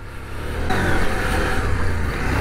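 A CF Moto 800MT adventure motorcycle engine revs up on a hill climb, a close, loud, rising drone that surges after a brief lull and holds steady.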